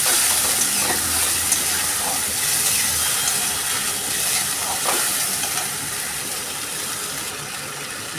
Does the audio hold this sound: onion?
yes